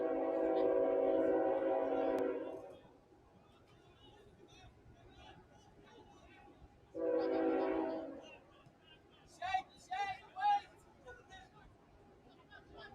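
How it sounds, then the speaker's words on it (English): Train rolling past a soccer field at Bryant Park during a USL-2 match, a loud broad rumble for the first two seconds and another surge around seven seconds, with crowd chatter and a few sharp calls between. "Train goes by here at Bryant Park."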